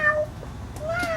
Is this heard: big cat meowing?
yes